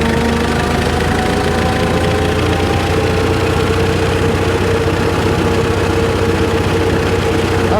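A 1917 International Motor Truck model F running, its old engine giving a loud, continuous low chugging drone with a steady mechanical knock, heard up close without talk.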